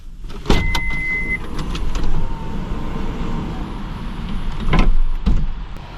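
A power window opens on a new Daihatsu Atrai camper van parked at an expressway parking area, its motor whirring briefly before steady outside traffic noise fills the cabin, with passing vehicles swelling louder.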